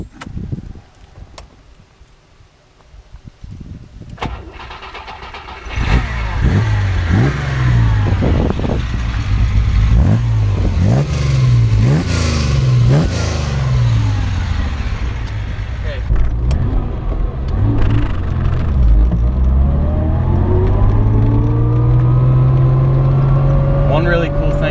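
A classic Ferrari Dino starts off and accelerates through several gears, its engine note climbing and dropping in repeated revving surges with shift pauses, loud and close, then rising again into a sustained pull toward the end.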